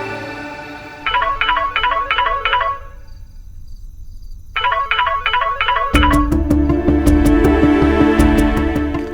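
Telephone in a Hindi TV drama scene: a burst of rapid keypad dialing tones, a brief pause, more dialing, then a loud repeating electronic ring with a steady pulsing pattern, no talk over it.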